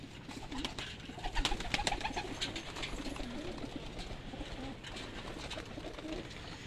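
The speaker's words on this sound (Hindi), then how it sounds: "ये मेरा मेन कबूतर है" Pigeons coo softly and repeatedly in a busy loft, with low throaty calls overlapping under a constant rustle of wings and shuffling birds.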